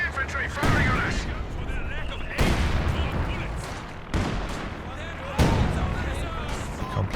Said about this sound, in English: Enemy infantry firing on us.